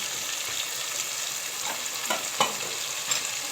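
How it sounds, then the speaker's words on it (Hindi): Chopped tomatoes go into a hot, sizzling pan while chicken biryani cooks, giving a dense continuous frying hiss with a few soft stirring knocks and spatters, close and unbroken. "अब हम इसमें टमाटर डाल देते हैं"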